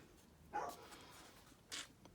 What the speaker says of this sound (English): That's Barney barking at the back.